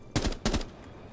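Two short bursts of rapid automatic gunfire from a video game, each a quick rattling volley of a few shots, loud and close, separated by a brief gap and followed by fading tail noise.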